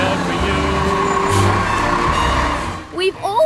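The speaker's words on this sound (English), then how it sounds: "We've all heard the sound of a garbage truck" A garbage truck rumbles close by with a heavy, steady low engine drone and hiss, and a voice speaks briefly near the end.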